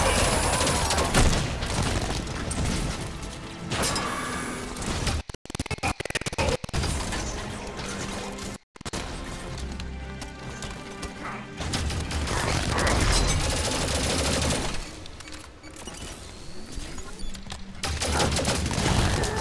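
Halo 5 video game gunfire, dense rapid bursts of automatic weapon shots mixed with explosions and game sound effects, loud and continuous throughout with brief dropouts.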